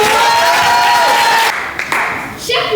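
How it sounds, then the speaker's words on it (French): Applause from a school audience at a Paris middle-school eloquence contest greets a speaker. It starts with broad sustained clapping mixed with a tonal ringing, then thins and fluctuates toward the end. "S'il vous plaît, une pluie d'applaudissements pour Yam."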